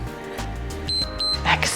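A single high electronic beep from a workout interval timer sounds for about half a second amid exercise movement noise and background music, followed by a brief clatter.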